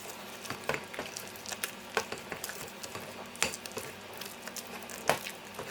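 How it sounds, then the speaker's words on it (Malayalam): Plum cake batter with orange juice and caramelised sugar is stirred in a bowl, giving soft wet squishing and irregular scraping strokes, quiet and close, with no voices. "എല്ലാം കൂടിയിട്ട് നന്നായിട്ട് കൂട്ടി യോജിപ്പിച്ച് കൊടുക്കുക"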